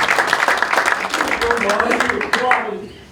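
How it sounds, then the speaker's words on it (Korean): A congregation at a Korean church service applauds in a dense, steady burst of hand claps over several seconds, with people talking over it before the clapping fades out. "그냥 박수 한번 하는 거예요."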